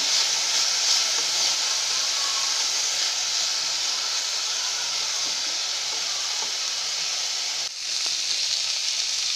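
Minced meat and vegetables fry in a pan with a steady, close sizzling hiss that barely changes, broken once by a brief dip as the pan is stirred.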